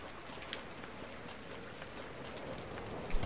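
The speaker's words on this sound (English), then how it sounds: "But it's raining, so I want to grab" Steady rain falling in the farming video game Summer in Mara, a soft even patter of drops on surfaces, continuous and close with no voices.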